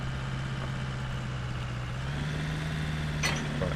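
Low steady hum of a car engine driving in Car Dealer Simulator, a constant drone that rises slightly in pitch partway through, with a faint brief click near the end.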